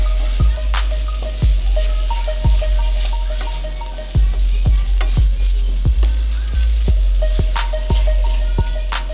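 Zucchini and seasonings sizzle steadily in a pan while a utensil stirs and scrapes them, giving sharp clacking knocks against the pan about once a second over the continuous frying hiss.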